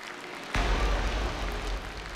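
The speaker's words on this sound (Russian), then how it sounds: "Еще раз давайте наградим аплодисментами Дмитрия за этот поистине опасный номер." Audience applause for a dangerous stage act bursts in suddenly after a brief quiet moment, a dense, steady clapping that stays loud to the end.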